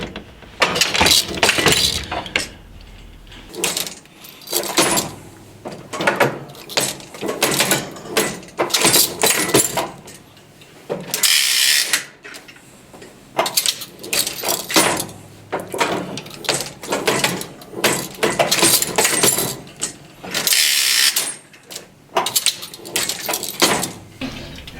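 A hand-operated knitting frame clatters and clicks as stitches are formed, with repeated metallic slides and knocks in bursts separated by brief pauses, close and fairly loud.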